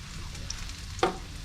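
Potatoes seasoned with salt and aromatics cook over low heat in a pan, a soft continuous sizzle with a brief sharper stir or scrape near the end, close and fairly quiet.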